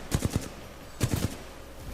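Two quick bursts of three semi-automatic shots each from Titanfall 2, sharp cracks in rhythmic groups a second apart, moderately loud with no voices.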